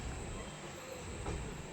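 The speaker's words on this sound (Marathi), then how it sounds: "ही मेमो ट्रेन आहे" A MEMU electric train rumbles at Roha station on the Konkan Railway, a continuous broad roar of carriages heard close by with no talking.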